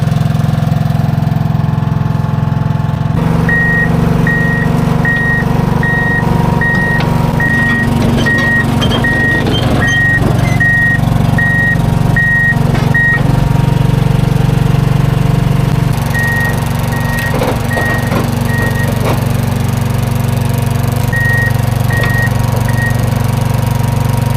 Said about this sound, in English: Back the dozer right up on the trailer.